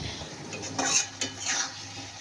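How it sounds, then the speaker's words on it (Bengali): Arabian chili chicken stirred in a pan, a spatula scraping a few times against the metal over a quiet sizzle, close and brief with no voices. "সেটা দিয়ে এখন আমি ভালোভাবে নেড়ে চেড়ে নিয়ে ঢাকনা দিয়ে আবারও ঢেকে দিচ্ছি।"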